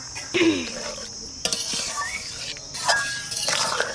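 Green chillies dropped into a simmering Bengali rohu fish curry and stirred with a spoon, giving scraping clinks against the pot over a soft sizzle, with brief bursts of stirring and no talk.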